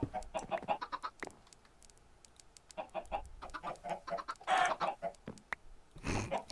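Minecraft chicken clucking as it gets punched, a series of short, soft clucks and squawks in quick irregular bursts over faint game background, with no talking.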